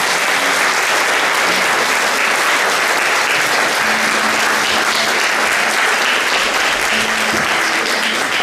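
Sustained audience applause fills a regional conference hall at an event for foster parenthood day, dense and steady clapping with no speech.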